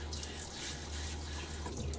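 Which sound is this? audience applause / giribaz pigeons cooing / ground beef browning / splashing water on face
splashing water on face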